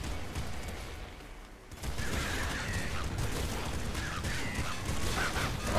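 Rapid gunfire from the Trop Gun in the top-down shooter Nuclear Throne Ultra Mod, a dense continuous burst of shots and crackling impacts that kicks in after a brief near-silent pause and carries on loudly to the end.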